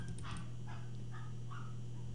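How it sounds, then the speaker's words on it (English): A dog barks in a new house, giving a few short, faint yips spaced across a couple of seconds over a constant low electrical hum. "What is the dog barking at?"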